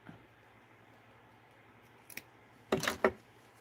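Scissors snip out stitching from a garment seam in a few quick close cuts, one brief click and then a pair of sharper snips against a quiet room background.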